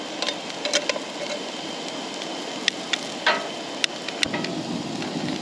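Eggs sauté in a hot pan with chopped onion and peppers for a bacon breakfast burrito, giving a soft, steady sizzle with scattered sharp pops and crackles close by, no voices.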